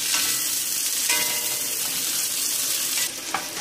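Chopped onion softens in a hot pan, giving a close, steady frying sizzle with faint stirring scrapes throughout, and no one speaking.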